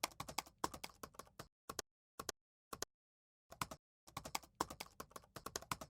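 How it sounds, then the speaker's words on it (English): Close, clear keystrokes on a computer keyboard come in quick bursts, with a few isolated taps and brief silent gaps between runs of typing. "Okay, now I'm just going to type this."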